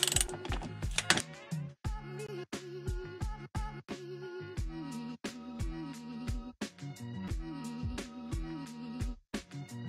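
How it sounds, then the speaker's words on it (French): A ratchet wrench loosens 19 mm seat bolts inside a van, giving a close, steady series of sharp metallic clicks in repeated bursts, pausing briefly between strokes. "Il y a juste 2 boulons à défaire, c'est du 19."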